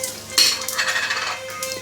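Tadka spices dropped into hot oil in a kadai for stuffed eggplant curry, giving a sharp sizzling crackle that flares up after a light metallic clink, over a faint steady hum, close by.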